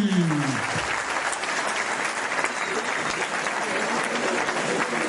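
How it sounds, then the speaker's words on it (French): Audience applause welcomes a guest at a televised sports debate: dense, steady clapping fills the whole stretch at an even level, with a brief voice audible under it at the start. "Je vous demande d'applaudir Saïd Ndjimi."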